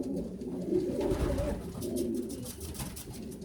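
A three-month-old young racing pigeon coos close by in soft repeated throaty phrases, with faint rustling around it.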